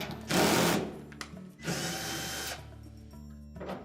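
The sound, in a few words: power drill removing screws from Whirlpool washer back panel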